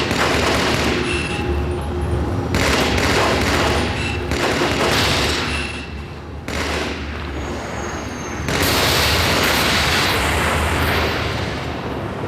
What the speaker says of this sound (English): So watch as I go to work with the battle rifle, which, so you know, unzoomed fires 3-shot bursts,